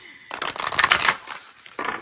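A deck of tarot cards is riffled and shuffled in two quick bursts of papery flutter, close and fairly loud, with a brief pause between them.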